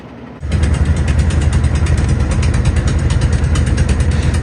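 A river trawler's engine machinery starts up loud and close, a rough rattling diesel chug with rapid mechanical ticking that runs steadily after a brief quieter moment at the start.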